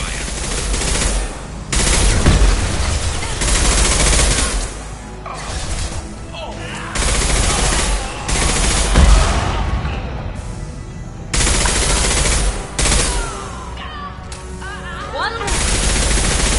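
Heavy gunfire in Mass Effect 2, loud bursts of rapid automatic shots and crashes in several dense clusters with short lulls between them, close and intense, with voices speaking at times under the shooting.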